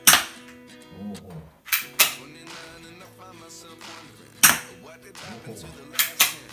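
An Academy Colt 25 airsoft BB pistol fires five or six sharp, loud snapping shots at irregular intervals, each a crisp crack followed by a short ring, with no talk.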